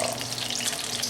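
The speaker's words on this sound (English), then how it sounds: "You very carefully flip the fish over." Breaded fish sizzles steadily in hot oil in a pan as it is turned over with a fish spatula, a close, continuous crackling hiss.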